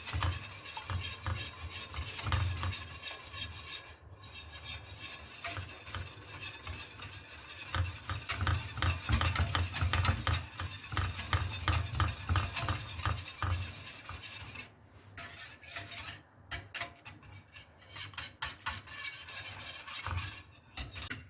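Supangle chocolate pudding mixture being stirred steadily in a pot on the stove, a continuous scraping and swishing rhythm that runs throughout, close and fairly loud with brief pauses near the end.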